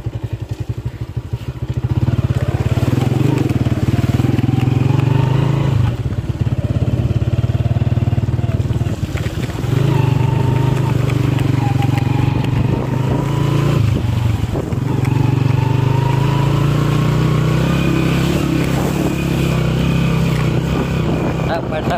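A motorcycle engine runs loud and continuous while riding, droning steadily with rising and falling pitch and wind buffeting, and a voice is heard over it.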